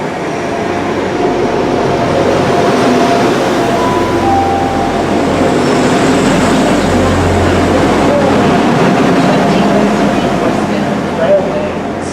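A Class 175 diesel train rumbles steadily through a station, its low continuous drone filling the space with faint clatter and a brief squeal near the end.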